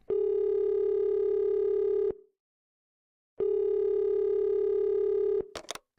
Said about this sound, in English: I think we should call up our friend.